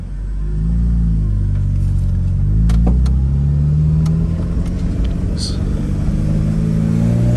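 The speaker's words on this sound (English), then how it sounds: "And then here's the V8 truck." A V8 truck engine rumbles past during a late-night drive, a deep steady drone that swells and holds loud for several seconds, with faint talk underneath.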